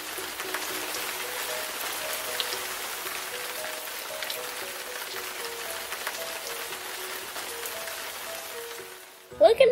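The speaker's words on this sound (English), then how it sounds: "Uh-oh, kids, it's starting to rain." Cartoon rain falls through a picnic scene as a steady, soft patter of drops under faint tonal music, ending with a brief louder rustle at the close.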